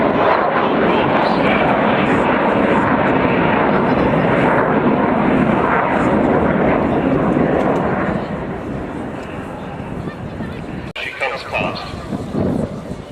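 An Avro Vulcan bomber flying at an air show, heard as a broad, loud, steady jet roar that eases slightly toward the end, with a commentator talking over it.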